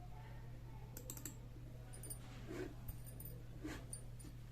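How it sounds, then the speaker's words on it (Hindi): Clicks of typing on a Dell KB216 wired USB multimedia keyboard, a few quiet scattered keystrokes in short bursts over a low steady hum, faint and fairly close. "जब तक मैं इसको टाइप करके दिखाऊंगी, क्योंकि डिस्प्ले अभी खुलने में थोड़ा समय लगेगा, इसलिए कीबोर्ड को देख लीजिए।"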